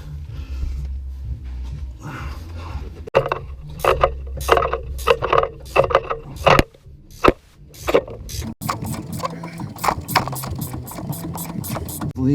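Rapid ratcheting clicks from a wrench loosening a 12 millimeter bolt on the rear diffuser of a 2015 Subaru WRX, in repeated bursts of sharp close ticks over low rumbling background noise.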